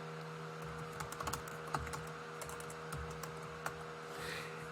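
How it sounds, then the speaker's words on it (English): Text is typed on a computer keyboard in irregular bursts of light, crisp key clicks, close and fairly quiet, with short pauses between runs of keystrokes and no speech. "you can go ahead and start typing some text in there"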